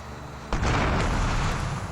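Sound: explosion in a video game

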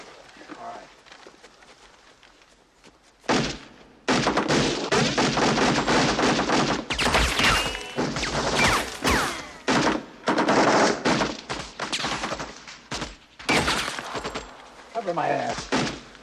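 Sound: AK-47 assault rifle gunfire

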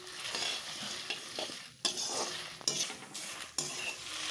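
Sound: cardamom, fennel and spices roasting in a pan

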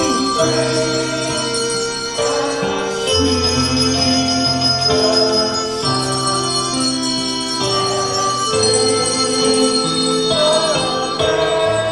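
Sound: handbells ringing while people sing

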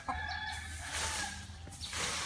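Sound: chickens clucking

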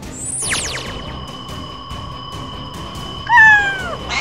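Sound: cat meowing in an animation

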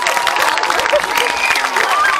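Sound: audience applause at folklore festival

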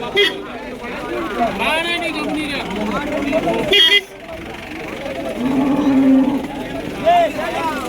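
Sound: cow mooing at a cattle market

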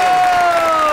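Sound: audience applause

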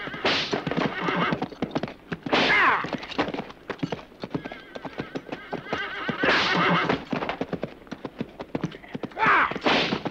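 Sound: horse neighing and hooves

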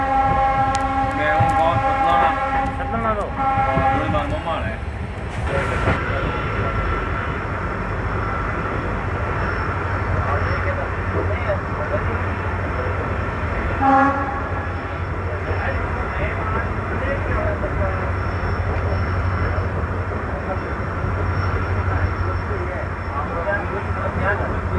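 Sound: Indian Railways intercity train behind WDP4D diesel locomotive arriving

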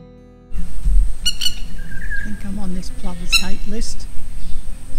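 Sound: plover calling over wetlands

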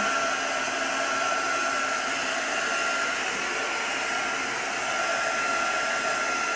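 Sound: heat gun drying patina paste

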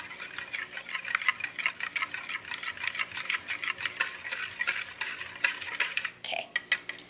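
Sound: whisking peppermint extract mixture in a bowl

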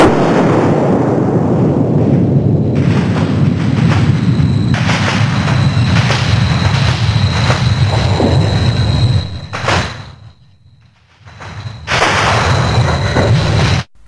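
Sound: seismic recording of a magnitude 5.5 earthquake

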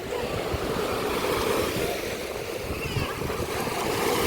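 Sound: rough sea waves at an Odesa beach

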